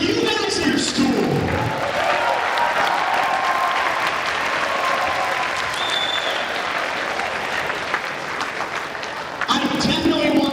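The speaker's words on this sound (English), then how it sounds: "let's get a big round of applause for you guys and your school." A school assembly crowd applauds and cheers in a dense, sustained wash of clapping that holds for several seconds, with voices briefly audible at the start and end.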